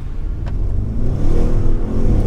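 A 605 PS Audi RS6 Performance accelerates hard on a slightly damp road, its engine note loud and close as it climbs steadily in pitch.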